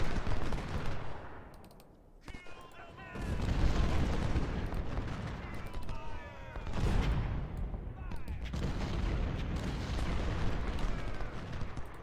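Civil War battle in the strategy game Ultimate General: dense, continuous musket volleys and artillery rumble, a steady loud din that dips briefly before swelling again, with a voice speaking over it.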